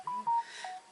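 A phone notification chime sounds nearby as two short, clean electronic tones in quick succession with a third softer tone after them, played over quiet room ambience with no talking.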